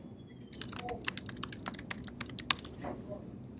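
Fingers type on a computer keyboard, a quick burst of crisp, close key clicks in an irregular rhythm over a low room hum.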